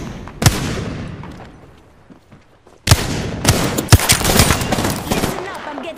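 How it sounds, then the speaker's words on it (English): Gunfire in the battle royale shooter Apex Legends: a sharp single shot, a fading lull, then a loud blast followed by a rapid volley of close, heavy shots and impacts. "Listen up, I'm getting shot at."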